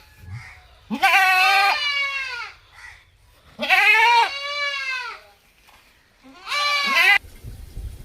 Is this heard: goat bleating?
yes